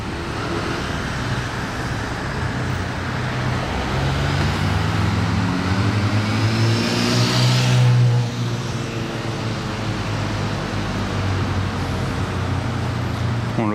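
A Lamborghini Temerario drives past in Monaco, its engine note rising loud and close then fading away over steady road noise, with a harmonic revving tone sweeping as it passes.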